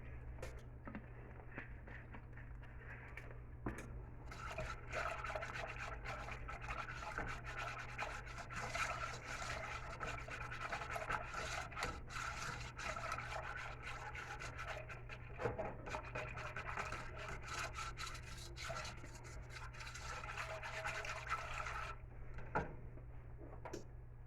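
Food, the last step being gravy, is stirred steadily in a pot, a continuous faint scraping and rubbing over a low hum that stops near the end.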